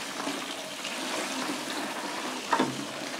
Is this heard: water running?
yes